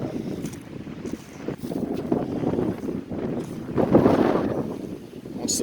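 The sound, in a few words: strong wind blowing while on a small sailboat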